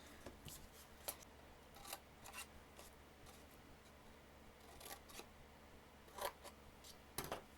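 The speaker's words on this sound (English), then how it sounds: "And now we're going to take our paper snips" Paper snips cutting card stock for a handmade card and treat box, making a series of quiet, short, sharp snips spaced irregularly against faint room noise.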